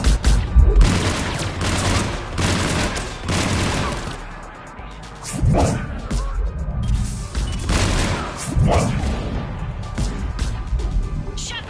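Gunfire and explosions in a PS4 sci-fi action game: rattling bursts of shots mixed with heavy booms and crashes, dense and continuous throughout, with brief in-game voices beneath the combat.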